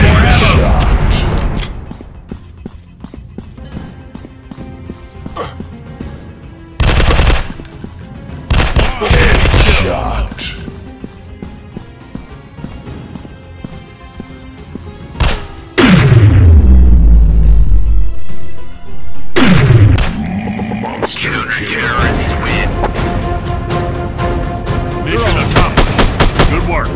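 Gunfire in the FPS Commando Strike mobile game, loud bursts of automatic weapon fire and heavy explosive booms with descending whooshes, dense and continuous, mixed with game music and effects.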